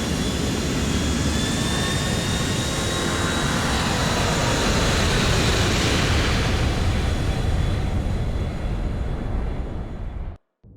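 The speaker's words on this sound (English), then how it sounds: "Luis makes it to the airport just as Bulgarin's plane is taking off" Jet airliner taking off at an airport in the video game GTA IV, a loud continuous roar with a high whine that holds steady for about ten seconds before cutting off abruptly.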